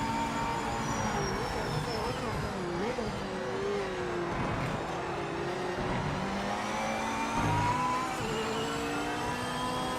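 GT3 race car engines in the racing video game Project Motor Racing drone continuously with rising and falling revs through gear changes, steady and prominent, with faint talk underneath.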